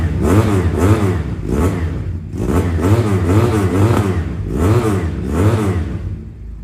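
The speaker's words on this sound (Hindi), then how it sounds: "पहले आपको साउंड टेस्ट करवाएंगे इसके स्टॉक एग्जॉस्ट के साथ" A BMW S1000RR replica motorcycle on its stock exhaust revs repeatedly, loud and close, with rhythmic rising and falling throttle blips over a continuous engine drone.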